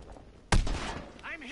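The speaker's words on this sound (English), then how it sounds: "Oh, grenade, great." A grenade explodes in Modern Warfare 2019 with one sudden close blast and a short rumbling tail, followed by a voice.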